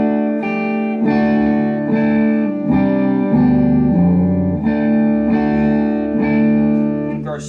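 Clean-tone electric guitar played through a HeadRush Flex Prime with reverb, sustained chords ringing out and changing every second or so, bright and full with a smooth lingering tail, no voices over it.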